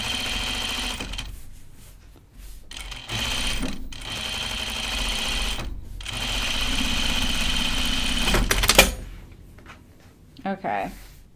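Sewing machine stitching an unfinished garment with French seams, several runs of steady motor buzz broken by short pauses, with a person talking over parts of it.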